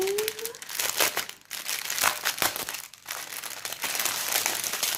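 A small plastic sachet of diamond painting supplies is torn open and handled, giving close, bright crinkling and crackling bursts with brief pauses, and a short voice sound at the start.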